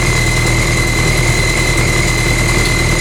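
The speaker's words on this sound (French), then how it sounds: "je sais pas si on entend bien le moteur du PCR." Steady low idling putter of a PCR moped engine, continuous and fairly close, with a constant hum and no voices over it.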